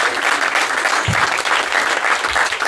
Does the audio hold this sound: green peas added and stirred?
no